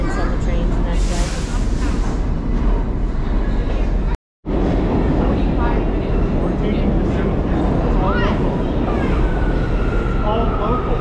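A New York City subway train runs with a continuous loud rumble and rattle of wheels and cars, broken by a brief dropout, while people talk over the noise.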